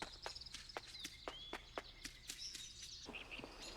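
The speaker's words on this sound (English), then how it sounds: "Literally all you can hear is the sounds of birds chirping." Birds chirp in a quiet mountain pass in the video game Suikoden 2, with short, bright calls and a few rising whistles scattered over soft, evenly spaced footstep-like taps, all fairly faint, with no talking.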